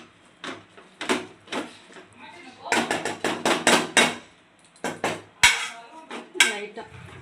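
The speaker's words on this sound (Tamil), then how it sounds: "இந்த பருப்பு லைட்டாக மறைச்சி விட்டுறேன் பாயாசம்" A spoon mashes cooked moong dal in a metal pot for payasam, making repeated clanking knocks and scrapes in uneven bursts with faint background sound.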